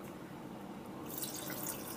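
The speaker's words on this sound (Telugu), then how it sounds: "ఒక 100 ml వాటర్ కూడా వేసానండి" About 100 ml of water is poured into a chutney mixture of green chillies and coriander in a grinder jar, a faint, quiet trickle that brightens into a splashier pour halfway through.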